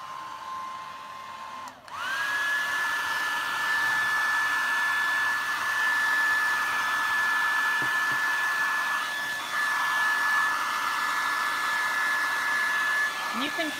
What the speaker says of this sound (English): And I'm gonna hit it with the dryer.